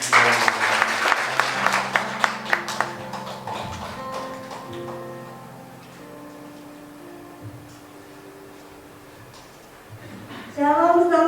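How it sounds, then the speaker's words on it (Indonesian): A church congregation applauds during a Sunday worship service, a few seconds of close, dense clapping that fades into sustained keyboard or organ chords, with a voice entering near the end. "berikan tepuk tangan dulu untuk Ibu Gembala"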